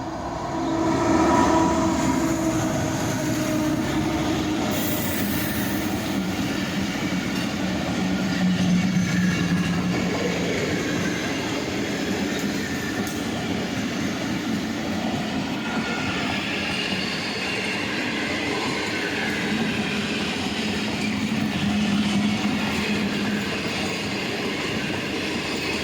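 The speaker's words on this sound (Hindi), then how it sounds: "काफ़ी लंबी रेलगाड़ी है" A long passenger train, the Khyber Mail, rumbles steadily past at a Lahore railway station for a sustained stretch, with rolling wheel noise, faint squeals and a brief horn early on.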